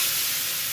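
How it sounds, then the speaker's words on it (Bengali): Garlic, onion and ginger paste frying in a hot pan for a rohu fish kalia, a dense, close, continuous sizzle with no voices. "রসুন পেঁয়াজ আদা বাটাটা ভালো করে ভেজে নেব।"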